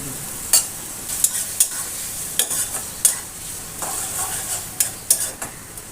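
Discarded pumpkin parts fry in a pan, a soft steady sizzle broken by repeated sharp scrapes and stirs of a utensil, close and with no voices.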